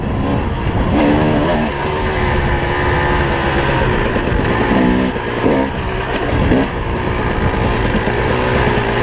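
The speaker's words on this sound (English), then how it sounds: "I'm going to ride this track to get to the highway." An adventure motorcycle rides along a dirt track in the Ural State Forest, its engine droning steadily and loudly throughout with slight shifts in pitch, close to the microphone.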